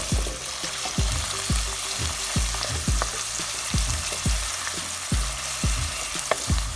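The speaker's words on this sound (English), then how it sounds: "So I'm going to stir this up." Red, green and ajicito peppers sizzle steadily in a pot of hot oil while a spoon stirs them in regular scraping strokes roughly once a second, close and continuous with no talking.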